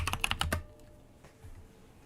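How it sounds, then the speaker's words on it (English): A quick burst of rapid key presses on a computer keyboard during live stock trading, close and crisp for about half a second before fading into quiet room tone. "Let's type it in."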